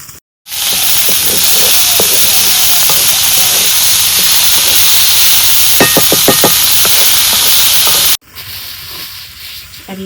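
Wild leafy greens hit hot oil in a traditional tempering and let out a loud, steady sizzle and steamy hiss, with a few light stirring clinks midway before the sound cuts off abruptly.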